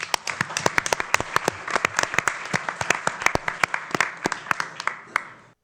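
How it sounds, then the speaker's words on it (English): An audience at an art talk gives a round of applause, with dense overlapping claps and sharp individual slaps standing out over a steady patter. It holds fairly evenly for several seconds, then stops abruptly. "a round of applause for David, please."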